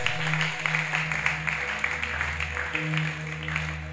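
A church congregation claps for Jesus in steady, continuous applause, with sustained musical tones underneath.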